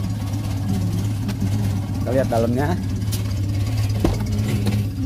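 A Suzuki Jimny Katana converted into a fire rescue truck idles with a steady, close, low exhaust rumble that runs throughout while people talk over it.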